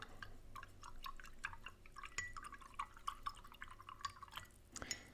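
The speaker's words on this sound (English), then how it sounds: "So I'm going to go ahead and wash my brush here." A paintbrush is rinsed in a jar of water during a painting session: quiet, close splashes and scattered drips with light glassy clinks and a brief louder splash near the end.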